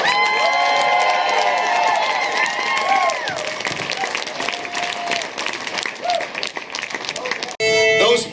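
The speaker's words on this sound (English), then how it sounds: "Give them a round of applause." Concert audience at an intimate gig applauding and cheering loudly and steadily, with scattered shouts over the clapping, the sound cutting off sharply near the end as a voice begins speaking.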